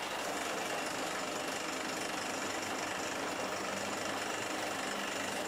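A rock drill boring blast holes in limestone hammers continuously with dense, harsh pounding noise, steady and unbroken throughout, no voices.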